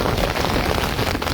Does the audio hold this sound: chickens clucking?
no